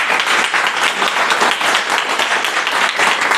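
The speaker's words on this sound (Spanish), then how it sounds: "dale un fuerte aplauso al Señor" A church congregation applauds loudly, a dense, sustained burst of clapping with no talk over it.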